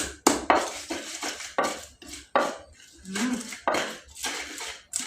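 Rhythmic pounding and scraping of stone against stone, about eight firm strokes with short pauses between them, as tamarind and spices are ground in a mortar and pestle for sambal.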